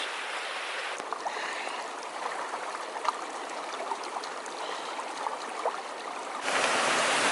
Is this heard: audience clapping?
no